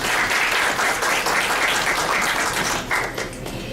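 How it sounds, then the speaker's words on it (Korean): Loud, dense audience applause at a Korean corporate press conference announcing a blockchain film-investment contract, continuous clapping from a seated crowd that tapers slightly near the end. "다시 한번 큰 박수 부탁드립니다."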